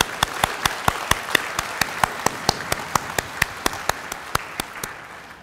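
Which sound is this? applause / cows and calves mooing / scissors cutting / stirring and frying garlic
applause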